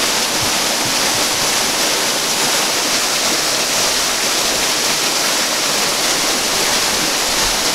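An Arkansas waterfall roars as a loud, dense, unbroken rush of falling water, close by and steady throughout, with no voices.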